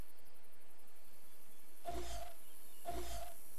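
A lion in the Far Cry 3 video game lets out two loud, deep roars about a second apart, each rising sharply and fading, over quiet background ambience.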